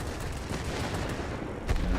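Hispano 40 cannons on a Hornet aircraft in World of Warplanes, heard as a sustained rapid burst of heavy gunfire, dense and rumbling, with a slightly louder thump near the end.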